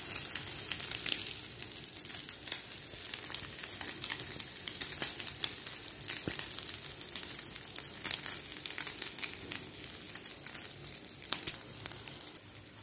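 Sausage bread rolls frying in oil until golden brown, a steady close crackling sizzle with scattered pops running continuously.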